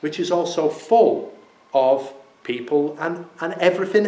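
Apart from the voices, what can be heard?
No everyday noise stands out behind the speech.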